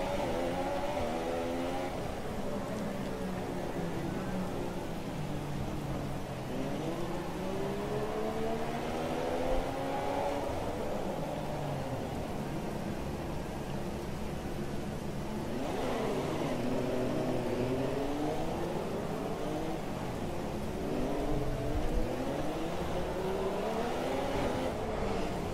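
F1 car engines in F1 2017 racing at Monaco in heavy rain, a continuous whining roar whose pitch sweeps up and down through repeated shifts and corners, steady and moderately loud with no speech.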